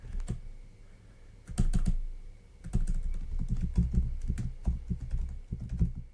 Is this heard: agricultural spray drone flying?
no